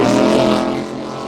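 A 42-foot Fountain V-bottom offshore powerboat accelerates off Cocoa Beach with a loud, close engine roar that builds briefly and then eases as it pulls away.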